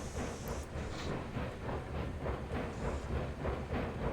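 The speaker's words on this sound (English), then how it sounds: "this has to be my favorite locomotive in the game at the moment" A Mogul steam locomotive rolls along in the Railroads Online video game, giving a steady rumbling chuff with a faint rhythmic clatter and hiss, continuous and fairly quiet, with no talking.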